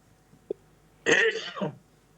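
A single harsh cough, close and fairly loud, follows a brief click in an otherwise quiet room.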